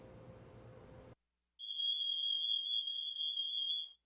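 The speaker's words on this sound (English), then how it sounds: "When the alarm sounds," A smoke alarm sounds with a single sustained piercing electronic tone lasting over two seconds, loud and close, after a brief stretch of low background noise and a pause.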